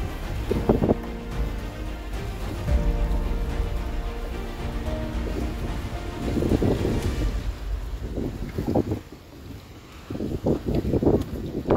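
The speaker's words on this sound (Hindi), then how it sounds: "ये ठंडी हवा चल रही है।" Cold wind blowing on a rainy, waterlogged road: a steady low roar and buffeting rumble from wind against the microphone, continuous and close, with stronger gusts swelling midway and toward the end.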